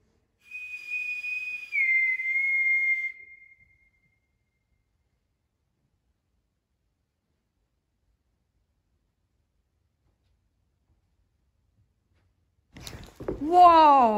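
Inside the Mill Street Barracks building, a clear two-note whistle rings out for a few seconds, followed by a long silence before a voice speaks at the end.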